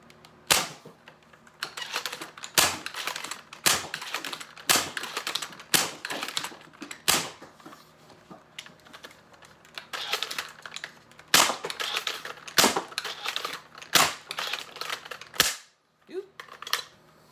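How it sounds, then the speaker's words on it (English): A homemade SLAB dart blaster being loaded and fired, producing a series of sharp, loud snapping cracks at irregular intervals, interspersed with quieter mechanical clicks and sliding noises from handling the mechanism. "I fired the last shot."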